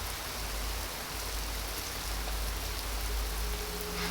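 Steady rain falls on leaves near the Mayon Volcano, a dense, even hiss of drops that runs unbroken throughout with no voices.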